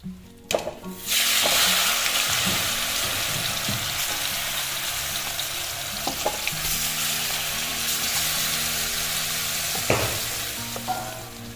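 Mashed olives drop into hot oil with panch phoron, bay leaf and dried red chillies for olive pickle, setting off a loud, steady sizzle after an initial splash, with occasional stirring clinks.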